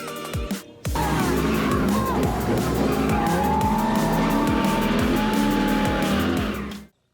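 A drift car at a team drifting event in Australia slides loudly and steadily, its engine roaring under continuous squealing, skidding tyres for several seconds before cutting off abruptly.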